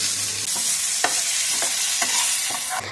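Chopped mango pieces go into a mustard and panch phoron tempering, giving a steady sizzle of hot oil with a few soft stirring scrapes at regular intervals, close and fairly loud, with no voices.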